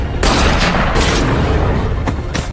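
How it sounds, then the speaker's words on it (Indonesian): Gunfire in a tense film shootout scene, a loud, dense barrage of shots and blasts filling the whole stretch with only brief dips between bursts. "Pastor Carlos tetap saja tewas ditembak oleh El Diablo"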